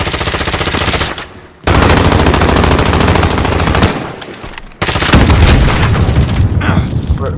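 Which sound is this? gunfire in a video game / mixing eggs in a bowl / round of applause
gunfire in a video game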